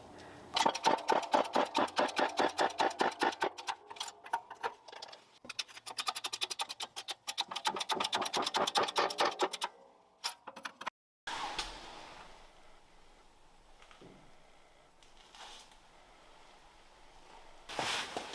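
A bearing outer race, oiled first, is driven into the differential case of a Mazda RX-7 FD3S limited-slip diff, making long runs of rapid, rhythmic close tapping strikes that give way to quieter handling noises.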